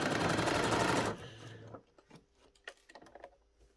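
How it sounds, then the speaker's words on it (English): A sewing machine stay stitches the pleats of a tartan doll skirt, running steadily and close for about a second before stopping, followed by soft fabric handling and light taps. "So we're just going to stay stitch this."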